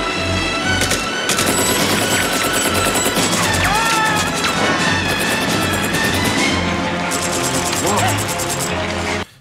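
Dense, sustained bursts of automatic gunfire with a helicopter in Rambo: First Blood Part II, rapid rattling volleys, crashes and a chaotic action-scene mix, loud and continuous until an abrupt stop.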